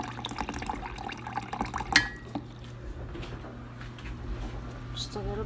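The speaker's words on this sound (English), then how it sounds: "But I'm gonna add a little bit of more water in there." Water poured into a pot of cooking Mexican rice on high heat makes a brief splash and a bubbling, sizzling wash, moderately close, with kitchen clatter.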